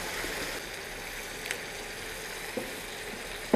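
Chopped onion and tomato fry in a pan for butter chicken, giving a steady, quiet sizzle with a few soft clicks and taps throughout, and no talking.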